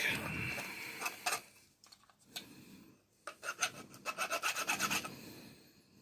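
Scraping and rasping of parts being pried and pulled apart while dismantling a wet and dry vacuum cleaner for scrap, in irregular bursts with a faster rhythmic run of rubbing strokes toward the end.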